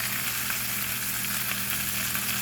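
Chicken drumsticks frying in corn oil, a steady, busy sizzle and crackle that holds at an even level throughout without any voices.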